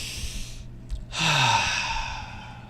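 A deep breath, with a long airy exhale that fades out, a short pause, then a strong close inhale sweeping upward, with a slower breathy release trailing off, no talking.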